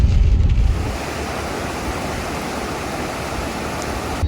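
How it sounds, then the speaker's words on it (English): Fast, floodwater-swollen creek rushing over a concrete slab road crossing in the flooded Ozarks, a loud, steady roar of churning water with no voices. "There's a slab there, but that water's moving too fast."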